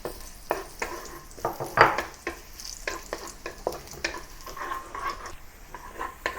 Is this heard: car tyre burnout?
no